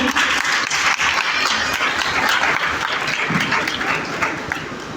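Loud, sustained applause from an audience gathered for a Gospel of John quiz competition in an Orthodox church in Wazirabad, steady clapping filling the whole stretch with a slight fade at the end.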